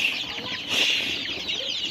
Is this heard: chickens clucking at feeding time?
yes